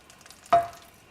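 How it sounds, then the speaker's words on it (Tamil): Sweet potato drops into hot ghee in a pan, giving a single sudden sizzle burst that fades quickly over a quiet background. "நெய் கொஞ்சம் சூடானதும் ஸ்வீட் பொட்டேட்டோவை இதில் போடுறோம்."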